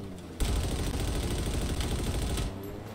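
Sustained rapid automatic gunfire in the Halo Infinite Fiesta multiplayer mode, a dense continuous burst of shots lasting about two seconds at close range before cutting off.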